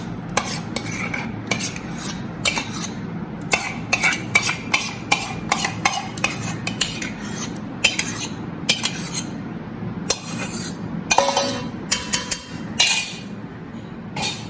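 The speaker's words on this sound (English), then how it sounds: "And go on stirring this. Mix it nicely." A spoon scrapes and clinks against a metal pot while boiled, mashed tuvar dal is stirred into Sindhi kadhi over a high flame. The irregular, loud metallic knocks and scrapes repeat throughout, close up.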